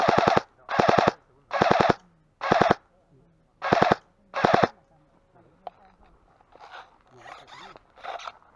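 Six loud, evenly spaced bursts of rapid airsoft fire close by during an airsoft game, then quieter scattered shots and faint distant bursts.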